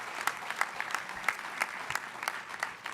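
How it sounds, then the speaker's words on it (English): An audience claps steadily at a moderate distance at an official event, a dense patter of hands rising and falling in waves without cheering. "Let's give them a round of applause."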